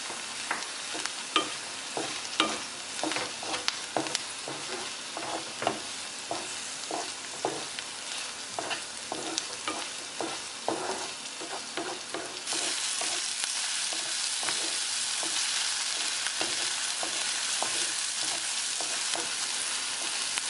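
Chopped capsicum stir-fried with idli Manchurian in a pan, a steady sizzle with a long run of spatula scrapes and knocks that come fast and rhythmic, close up, and the frying grows louder and denser halfway through.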